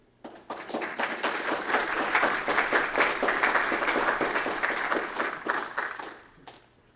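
A live audience at an evening talk breaks into sustained applause to welcome three speakers, steady dense clapping that swells quickly, holds for several seconds, then fades out.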